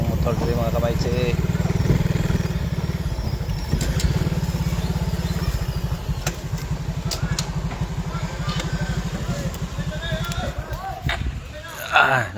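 Motorcycle engine idling and puttering as it pulls in to park, a close, steady low rumble with a rapid rhythmic pulse that gradually eases, with people talking over it.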